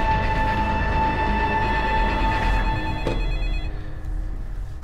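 A telephone rings in continuous electronic bursts, loud and close, with a brief click near the middle and the ring fading slightly toward the end; no one speaks.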